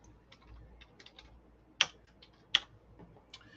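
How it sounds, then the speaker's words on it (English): Quick, light key clicks come from typing on a computer keyboard, a fairly quiet run of irregular taps with two sharper, louder strikes standing out, and no talking over it. "I'm typing in the chat for giveaway"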